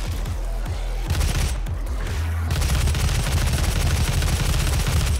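Rapid gunfire from a scoped weapon in the Doom video game, with dense bursts of shots and heavy booms that fill the clip continuously, loud and close.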